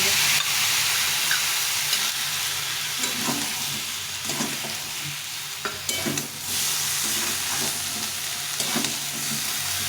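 Vegetables and spices fry in a pan with a loud, continuous sizzle. Scraping stirs and clinks from a utensil break through it at irregular moments.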